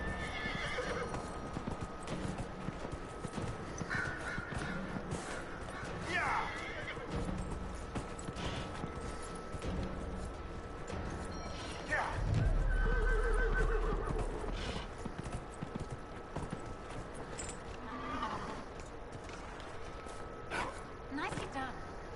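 Horse hooves clip-clop rhythmically and a horse neighs loudly several times during a race in Dragon Age: Inquisition, with game sounds in the background.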